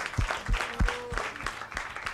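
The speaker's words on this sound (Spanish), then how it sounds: "Muy bien, Mirtha Legrand, un aplauso." A small crowd claps in a brief, scattered burst of applause that stays moderately loud throughout.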